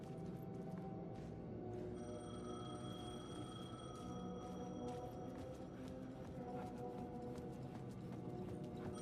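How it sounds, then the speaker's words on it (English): A payphone rings repeatedly in the horror video game Alan Wake 2, its ring steady and sustained over a dense, murky game ambience with no talk. "The payphone was ringing."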